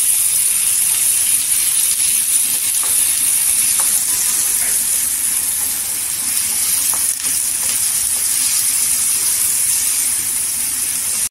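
One or two onions sizzle steadily in a pan as they fry toward golden for a spicy soya chunks masala, a constant bright hiss with faint clinks.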